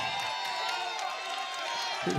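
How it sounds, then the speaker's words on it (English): A basketball crowd in a gym cheers and roars in a sustained, loud wash of voices and whoops from many people, with a commentator talking over it. "This crowd's very appreciative of the great defense played by the Cardinals"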